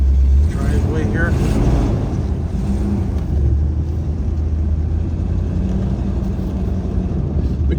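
1975 Chevrolet Corvette Stingray idling and rolling as it backs out of a driveway, a loud steady low engine rumble heard from inside the car, with someone talking over it.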